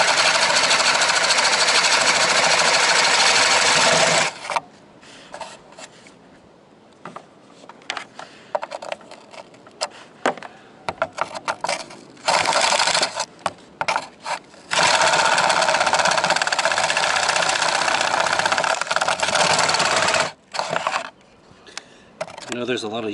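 A power drill widening a cable hole in an RV for a WiFiRanger cable, loud close whirring bursts starting and stopping several times between quieter gaps.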